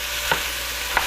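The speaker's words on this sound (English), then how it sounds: "I'm just going to break it up, stir it, and cook the pork" Ground pork frying in a pan with a steady sizzle, broken by two soft scraping strokes of a spoon or spatula stirring the meat.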